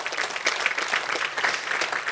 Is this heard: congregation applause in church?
yes